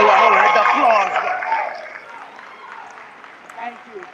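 Applause rises from a live audience at a reunion show, loudest at first and then fading, with people talking throughout.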